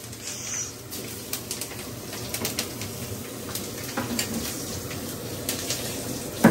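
Spices sizzle and spatter in hot oil during tempering with black cumin, making a crackling hiss with sharp pops scattered over it, while a pigeon coos nearby.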